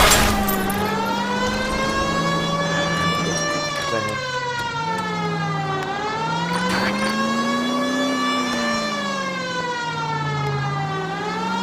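Car engine driving in the LA Noire Remaster video game, a loud, continuous droning note whose pitch swells and dips as the car speeds up and slows, with no talk over it.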